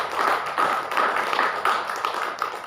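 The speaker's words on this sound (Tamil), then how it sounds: "நல்லா கைத்தட்டு, உற்சாகத்தை." Rhythmic group clapping rings out at a Palm Sunday procession, quick even claps repeating at a steady beat, close and fairly loud over about three seconds.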